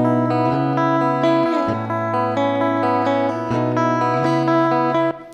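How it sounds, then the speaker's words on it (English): A sustained synth chord in Ableton Live 11 run through the Chorus-Ensemble effect, its pitch wobbling in a fast sine pattern as notes change, loud and continuous with no voices. "So it's making the pitch wobble in this shape of a sine wave at 90 hertz."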